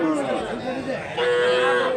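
Cattle low amid a busy cattle market, with one long moo rising over a steady murmur of crowd chatter and talking nearby.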